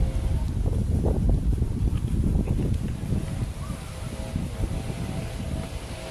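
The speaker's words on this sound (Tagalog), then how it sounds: "Mahangin." Wind sweeps through People's Park in Tagaytay, rumbling loudly across the microphone in uneven gusts that ease a little in the second half.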